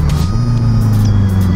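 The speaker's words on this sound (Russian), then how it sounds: "Скорости как переключаются." A Honda CBR Fireblade 1000RR sport motorcycle pulls steadily on the road, its engine note dropping briefly as a gear change comes through, with wind rushing around the rider.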